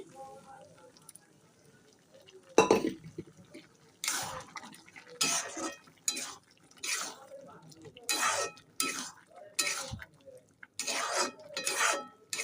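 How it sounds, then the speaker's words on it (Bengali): Boiled potatoes and peas go into a wok in a home kitchen, giving a loud thud followed by repeated clattering scrapes of a utensil against the metal pan in irregular bursts. "আলু আর মটর একসঙ্গে সেদ্ধ করে নিয়েছি এই দিয়ে দিলাম কড়াতে"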